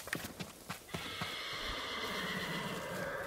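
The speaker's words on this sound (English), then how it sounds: "those horses better chill out" Horses in the video game Ghost of Tsushima neigh in loud, drawn-out whinnies over a brief patter of clip-clopping hooves at the start.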